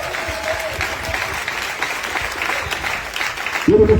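Church congregation applauding steadily for several seconds, a dense patter of many hands, with a brief voice breaking in at the end.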